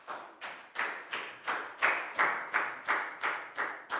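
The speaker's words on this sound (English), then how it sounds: "Big round of applause for Net," Rhythmic, evenly spaced claps in a Year 4 maths class, about eleven sharp unison beats roughly a third of a second apart, fairly soft and with no talking.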